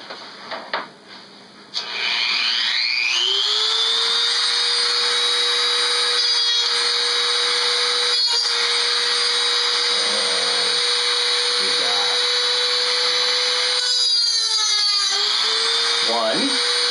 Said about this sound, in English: Now I have to cut here. Again, let the wheel do the work.